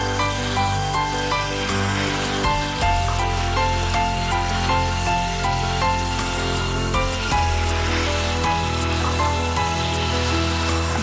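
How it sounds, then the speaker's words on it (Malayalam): Chicken sautéing in a chilli powder masala for kappalandi chicken sizzles continuously and fairly loudly, with stirring scrapes and a couple of louder utensil knocks, no voices. "ഇനി ഇതെല്ലാം കൂടി കടന്ന് ഒരല്പസമയം ഇങ്ങനെ വഴറ്റും."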